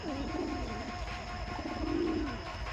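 A red jira pigeon pair coos in two soft, rolling bursts, one at the start and one near the end, close by over a steady background hum.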